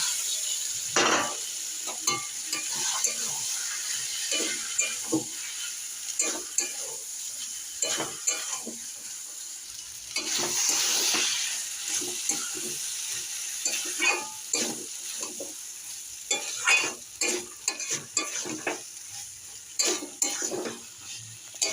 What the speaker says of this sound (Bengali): এবার আমি মটরগুলো দিয়ে দিলাম